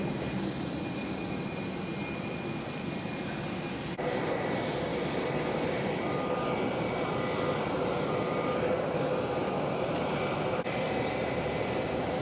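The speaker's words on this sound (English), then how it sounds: "18-year-old Boeing 737-800, delivered brand new to Qantas" Engines of an 18-year-old Qantas Boeing 737-800 in silver livery hum as a steady, broad roar, near and continuous, stepping up slightly louder a few seconds in and holding without any talk.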